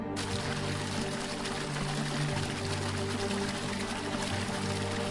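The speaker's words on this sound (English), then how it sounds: "The sacred water from a sacred well." Water pours continuously from a sacred spring well, a loud, close, unbroken rush that starts abruptly and keeps a steady level.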